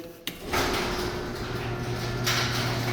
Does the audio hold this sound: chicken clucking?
no